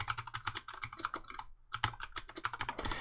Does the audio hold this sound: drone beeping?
no